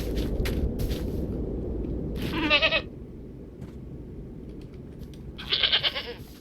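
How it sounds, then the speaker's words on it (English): Goats bleat in TerraFirmaCraft, two distinct wavering calls several seconds apart, over a steady low rumbling background. "I'm fairly certain this is all just 3 goats."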